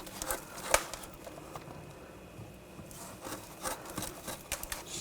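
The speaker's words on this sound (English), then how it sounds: "I'm just going to take a rag and just clean that up a little bit." A rag rubs dirt and debris off the front brake area of a 2007-2013 BMW X5, giving close, repeated scrubbing strokes with a few sharper scuffs and short pauses, and no talking.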